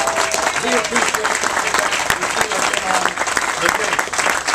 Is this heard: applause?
yes